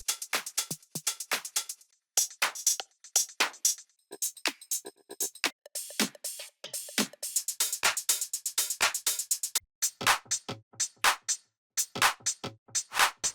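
A deep house drum loop from a sample pack plays punchy kicks, claps and crisp hi-hats in a syncopated groove, loud and dry, with short gaps between phrases and no voices.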